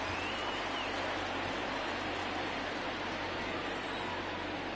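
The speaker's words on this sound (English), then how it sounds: "Loud crowd here in Philadelphia." Simulated crowd noise at a Philadelphia ballpark in the baseball video game MLB The Show 20: a steady, dense roar of spectators, loud and unbroken throughout, with no speech.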